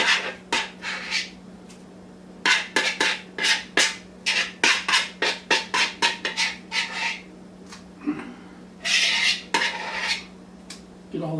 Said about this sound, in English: Now we're gonna throw our cheese mixture in there. Kind of tumble it around a little bit.